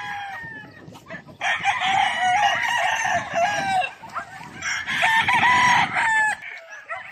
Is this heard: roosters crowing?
yes